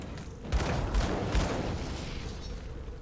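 A few deep booming blasts in quick succession, then a rumbling roar that lingers and slowly fades, from an explosion in the video game Grim Dawn.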